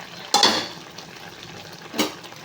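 Wheat vermicelli being stirred in a pot, with two short scraping strokes of a utensil against the pot, one near the start and one near the end, and quiet in between.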